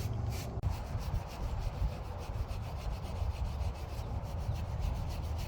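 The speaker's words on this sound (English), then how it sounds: "Gonna take our wire brush and again just clean off some of this rust buildup around it." Wire brush scrubs rust off a wheel hub on a Lincoln Navigator or Ford F-150 during a wheel bearing job, a continuous close scratching rasp with quick back-and-forth strokes.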